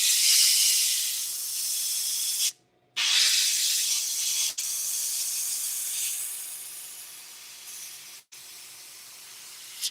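Compressed air blowing onto white-painted maple wood to dry the paint, a loud steady hiss broken by one brief gap near the middle and two short drops later.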